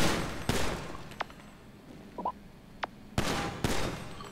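Gunfire at a shooting range in GTA 5: two heavy bursts of rapid automatic shots open and close the passage, with a few isolated single shots in the quieter stretch between, loud and close.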